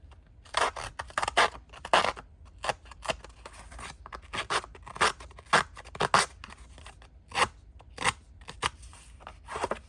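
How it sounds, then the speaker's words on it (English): A handheld paper distresser scrapes along the edges of a paper craft tag in quick, rasping strokes, with short bursts and brief pauses between passes, close and clear with no talking. "I'm going to be using my paper distresser to just kind of go around the edges here."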